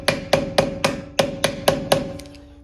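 Eight sharp metal hammer strikes ring out in a steady rhythm on a quad-piston front brake caliper of a 2015-2020 GMC Canyon or Chevy Colorado, loud and close, each blow leaving a brief metallic ring.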